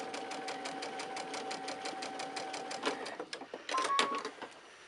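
A sewing machine stitches binding onto a quilt in a fast, steady rhythmic clatter, close and even, ending in a few uneven bursts and handling clicks.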